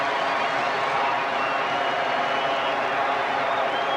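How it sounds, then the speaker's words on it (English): A football crowd at a 1994 Portsmouth match roars after a Portsmouth goal that makes it 2-0. The cheering is a loud, steady, dense wash of voices that holds for several seconds without a break. "And that has really brought the crowd to their feet."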